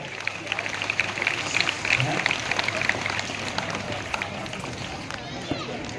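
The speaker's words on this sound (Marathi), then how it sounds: "सर्वांनी टाळ्या कडकडाट वाजवायचे." An audience claps together at a village gram panchayat Independence Day prize ceremony in Dhalgaon. The applause is dense and sustained, a steady wash of many hands with crowd murmur throughout.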